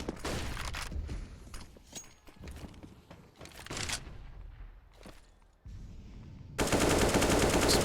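Bursts of automatic rifle fire in Counter-Strike on the Train map, several rapid sprays and single shots mixed with game effects, ending in a loud, sustained burst.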